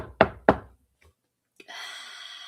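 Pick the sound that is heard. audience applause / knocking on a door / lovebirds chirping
knocking on a door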